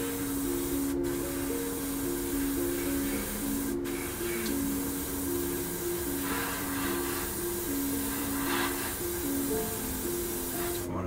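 An airbrush or spray can sprays paint steadily onto a PL-01 prototype tank scale model, giving a continuous close hiss with a faint hum underneath and a couple of sharp clicks.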